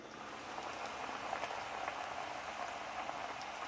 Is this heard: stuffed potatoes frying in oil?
yes